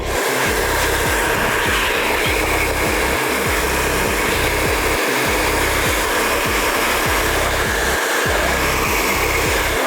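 A heat gun blows steadily on KTM 300 XCW motorcycle graphics decals, a loud continuous whooshing roar with a low rhythmic pulsing underneath, close and alone throughout.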